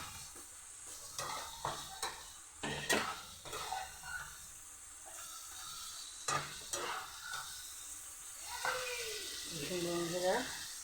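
Fish sizzling and frying in hot oil in a home kitchen pan, with repeated stirring scrapes and bursts of crackle at close range, and a few faint voice-like tones near the end.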